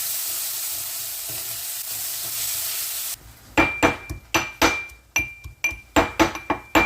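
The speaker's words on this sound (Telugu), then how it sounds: "ఉల్లిపాయలు, వేసుకొని బాగా కలుపుకోవాలి." Onions frying in a pan for chana masala, a steady hiss at first, then a spoon clanking against the pan in a quick repeated rhythm while the sizzle continues close by.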